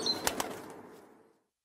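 Birds take off with a short, close burst of flapping wings, a few sharp beats that fade quickly into silence.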